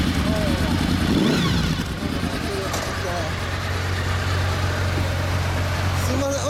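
A 2015 Honda VFR800F (RC49) motorcycle fitted with an Akrapovič aftermarket exhaust idles steadily with a low, throaty burble and a slight rev near the start, recorded close up outdoors in Kobe amid background chatter.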